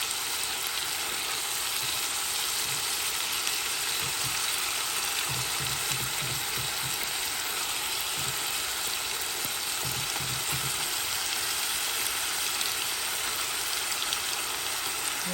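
Ground meat for sloppy joes frying in a pan, a steady broadband sizzle running the whole time with faint stirring scrapes now and then, close and even, with no talking.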